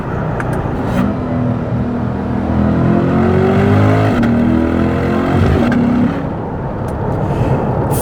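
A C8 Corvette base model engine downshifting and accelerating: a loud, close, continuous engine drone whose pitch climbs as revs build, dips briefly at the shift, then carries on steadily, with no talk.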